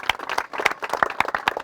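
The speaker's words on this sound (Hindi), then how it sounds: "मैं चाहूँगा फुन्नी के लिए आप लोग एक बार जोरदार ताली बजाइए" A small gathering claps for Funni at a house-related honouring event, with distinct overlapping hand claps in a quick, uneven rhythm, fairly close and moderately loud, with no voices over it.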